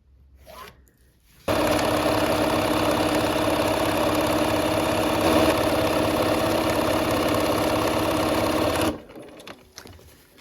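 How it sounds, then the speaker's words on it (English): A sewing machine stitches quilt fabric pieces a quarter inch from a drawn line, running in one steady, close, even whir for about seven seconds before stopping. "we'll sew a 1/4 inch from both sides of that line"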